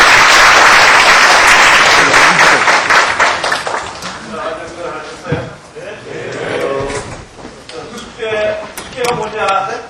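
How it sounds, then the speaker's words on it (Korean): A lecture audience gives loud, dense applause to welcome a speaker, fading after a few seconds into scattered claps and room noise with voices murmuring. "이인희 박사님도 박수로 맞이해 주십니다"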